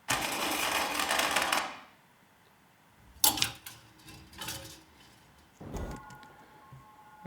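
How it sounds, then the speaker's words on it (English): Clothes hanger sliding along a rail with sweatshirts being pushed aside, a long rushing fabric swish, then a pause and several scrapes and clicks of the hanger, close with no talk. "he uses this cloth hanger thing"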